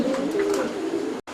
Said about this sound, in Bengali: এই কবুতরের নাম টাইগার রেসার। এটা টাইগার রেসার।